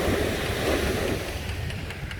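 Sea waves roll and wash continuously onto a Sri Lankan beach, a steady broad surf roar with wind buffeting the microphone and no voices.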